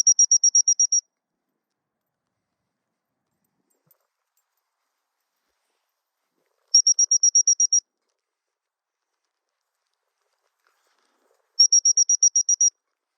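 Three bursts of rapid, high-pitched trilled dog recall whistle blasts, each about a second long, separated by long stretches of silence.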